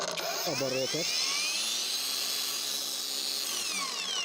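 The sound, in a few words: angle grinder spinning at high speed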